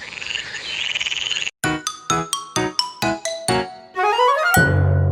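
A frog croaks in a rapid series of about ten sharp, resonant calls after a buzzing chorus, loud and close, ending in a longer rising croak.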